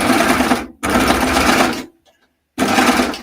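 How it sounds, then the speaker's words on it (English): An overlock sewing machine stitches through elastic on a skirt, running in loud, steady, fast-buzzing bursts that stop briefly, fall silent for a moment and then start again. "I am sewing through a little bit of the elastic here as well"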